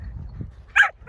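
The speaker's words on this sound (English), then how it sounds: "The black one barks at the other one continually." Dog barks from a black dog at another dog on a racecourse, two short sharp barks near the end over low background rumble.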